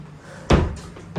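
A wardrobe door in a hotel room is pulled open with a single close knock-like thud, followed by faint rattles and a softer bump as it settles.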